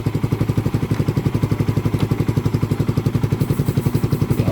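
A motorcycle engine runs close by during battery and rectifier checks, idling with a steady, rapid, even chugging pulse and mechanical clatter, with no voices.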